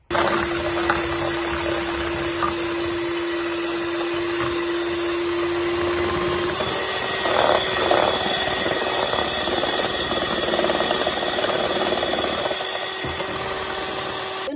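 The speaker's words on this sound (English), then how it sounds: "We're gonna work on the egg whites. We're gonna whisk this till it's fluffy." An electric mixer whisks egg whites toward a fluffy consistency, giving a steady close whirring drone with a constant motor whine throughout.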